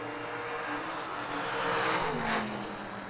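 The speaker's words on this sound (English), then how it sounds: "He's going to do a nice little wheelie over there in that wagon." Drag racing wagon launching into a wheelie, engine roar swelling and then fading at a distance, a short burst of racing noise over a steady background drone.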